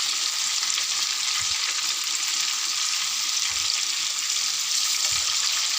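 Tandoori chicken fries in a pan after being turned over, a steady close hiss of sizzling oil running unbroken with a few faint low knocks.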